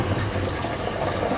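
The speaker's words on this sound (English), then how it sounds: "I'm going to add a little bit of water just to loosen it up because it has to simmer for a bit." Water pours steadily and noisily into simmering Coney Island chili sauce on a Blackstone griddle, a continuous close splashing rush with no talk.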